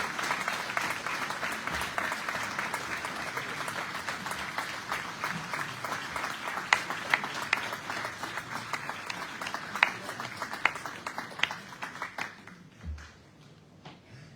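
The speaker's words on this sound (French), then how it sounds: "Je vous présente et demande d'applaudir monsieur Christian Collet." A crowd applauds steadily for over ten seconds, dense clapping that thins out and fades near the end.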